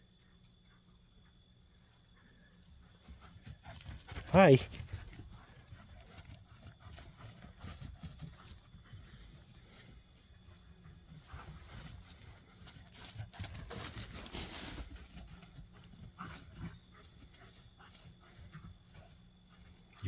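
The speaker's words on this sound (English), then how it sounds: "You hear all the crickets." Crickets chirp in a constant high-pitched pulsing chorus throughout, with a brief voice and some rustling movement passing through.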